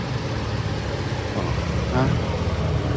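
Hyundai Kona crossover engine running at a steady idle, a continuous low hum with a faint whine, close by, while someone talks over it.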